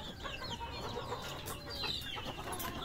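A breeding rooster, a gamecock called el gallo de compadre, clucks softly among busy background noise, with low, scattered calls that stay faint throughout.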